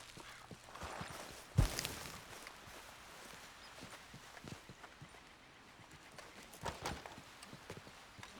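Horse hooves clip-clop at a steady walking pace in the video game Red Dead Redemption 2, soft and fairly faint over a quiet ambient background, with one sharper thump early on.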